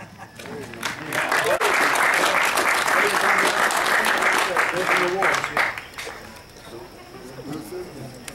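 At a Northern Kentucky music hall of fame induction ceremony, an audience applauds inductees, clapping swelling quickly to a full, sustained wash before tapering off, with voices heard as it dies down.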